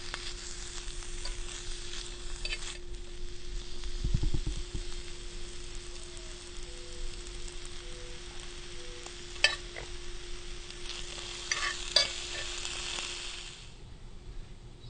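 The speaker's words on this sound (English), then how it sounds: "Can you hear that sizzle?" Vegetables sizzle in a pan over a campfire, a steady moderate crackling hiss with occasional stirring scrapes and a couple of sharp clinks, no voices.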